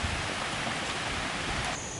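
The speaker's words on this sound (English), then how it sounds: "We got a tropical storm coming through today" Heavy tropical-storm rain pours steadily as a dense, even hiss of water striking surfaces outdoors, continuous and fairly loud with no voices.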